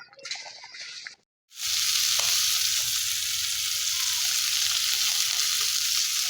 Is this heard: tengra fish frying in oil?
yes